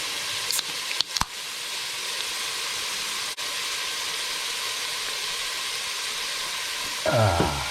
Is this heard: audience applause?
no